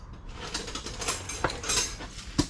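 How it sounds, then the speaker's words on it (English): A 21 millimeter wrench ratchets on a bolt under a Dodge Challenger, giving quick close metallic clicks and clanks with a sharper knock near the end. "Get my 21 millimeter wrench, because the wrench is the only thing you can do it with."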